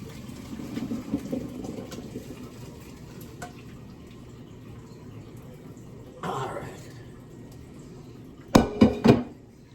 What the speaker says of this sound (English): I'm going to strain this bad boy off.